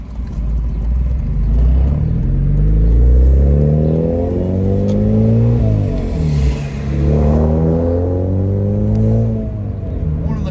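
A Mazda Miata engine revs and accelerates hard through gear changes, loud and close, the low drone rising and falling in pitch across several pulls.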